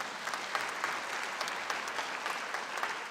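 A Labour Party conference audience breaks into dense, sustained applause, many hands clapping evenly at moderate loudness for a few seconds with no voices over it.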